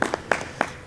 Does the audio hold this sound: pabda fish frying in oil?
no